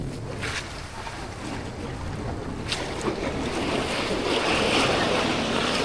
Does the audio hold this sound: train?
no